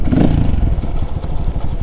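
A Suzeromoto 250cc dirt bike engine rumbles steadily up close, a low throaty idle with a slight clattery texture throughout.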